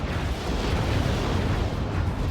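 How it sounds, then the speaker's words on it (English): Artillery fire and explosions in the real-time strategy game Act of Aggression: a dense, continuous rumble of blasts and booms with no gaps, loud throughout. "Artillery's just flying out everywhere."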